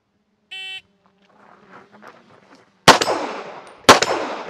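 A shot timer at a Bianchi Cup shooting competition gives a short electronic beep, and after a pause two loud, sharp gunshots follow about a second apart, each ringing out with a reverberant tail.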